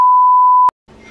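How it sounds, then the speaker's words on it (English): A single steady censor beep, loud and clean, holds for under a second and cuts off sharply, followed by a brief silence and then faint background sound. "I'm gonna just beep you out because you deserve that."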